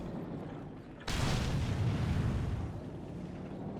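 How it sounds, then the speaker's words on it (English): Flame mortar fire in the strategy video game Company of Heroes 2, a sudden loud boom followed by a sustained rumbling roar and crackle that slowly fades. "Flame mortar into the retreat path a little bit here"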